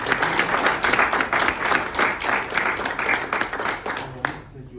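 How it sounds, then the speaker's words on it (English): An audience applauds at an evening storytelling event on liberation, with brisk, dense clapping that stays steady for several seconds and then quickly dies away near the end. "Thank you everyone for the applause."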